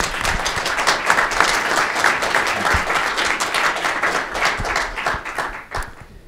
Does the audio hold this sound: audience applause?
yes